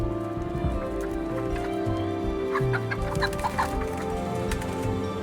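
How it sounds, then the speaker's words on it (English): A hen clucks repeatedly in short, soft bursts over a steady low rumble, with light patter in the background. "the hen clucking softly as he dodged giant furniture"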